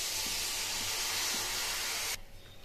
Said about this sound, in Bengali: তেলটা আমার গরম হয়ে গেছে, এবার কালো জিরা ফোড়ন দিয়ে দেব।